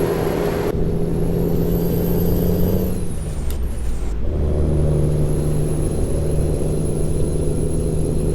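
Freightliner FLB 4x2 cab-over truck driving in American Truck Simulator: a steady droning engine hum with a whining tone, broken midway by a sharp hiss of air brakes before the engine drone resumes, loud and close throughout.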